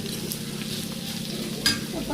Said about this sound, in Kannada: ಫ್ರೈ ಆದಮೇಲೆ ಸ್ವಲ್ಪ ಟೊಮಾಟೊ ಉಟ್ಕೊಳ್ತೀನಿ,